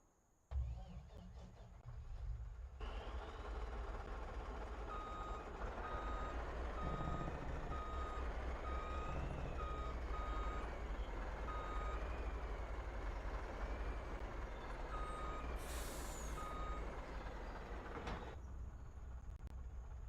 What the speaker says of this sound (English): I'll have to get this truck and we'll load up a front end loader and bring it over here.